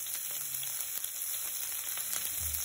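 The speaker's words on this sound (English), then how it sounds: "Now I'm adding green chilies to it." Chopped green chilies sizzle and fry in hot ghee with cumin seeds in a pan, a steady close crackling hiss with faint stirring clinks and no talk.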